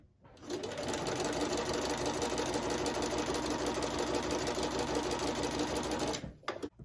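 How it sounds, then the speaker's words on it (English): Sewing machine stitching pieces of a quilt block, a steady, fast, continuous mechanical whir and chatter running for about six seconds before stopping, close and alone with no voice over it. "put it under my presser foot, hold my threads,"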